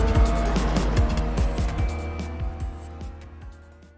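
Lotus 49 race cars lapping Barcelona in iRacing: engines rasp and rev close by, with repeated sharp gear-change blips over a droning exhaust note that fades gradually toward the end, and no talk.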